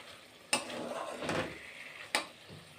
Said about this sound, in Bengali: তো হালকা হাতে আমি সুন্দর করে কিন্তু সব মশলা শিমের মধ্যে মাখিয়ে নিচ্ছি।